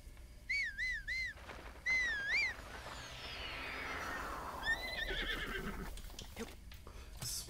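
Two quick whinnying horse neighs near the start, another brief neigh later, over a steady background hum with scattered game sounds, in The Legend of Zelda: Breath of the Wild.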